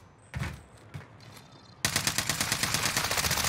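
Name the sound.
gunfire at the player in Call of Duty Rebirth Island video game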